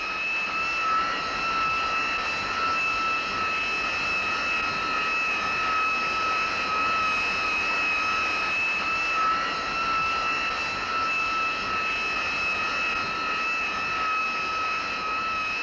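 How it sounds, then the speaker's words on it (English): Steady, loud roar of jet fighter engines on the deck of a US Navy aircraft carrier during catapult launches, a continuous high whine riding over broad rumbling noise with no breaks and no talking. "The planes are fired alternately off each of the two catapults, one plane every 30 seconds,"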